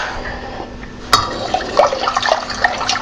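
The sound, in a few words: pouring brewed tea into apple wine mixture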